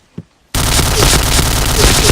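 Sustained rapid gunfire erupts suddenly after a brief quiet moment, loud and dense, like an automatic weapon firing continuously in the game Point Blank.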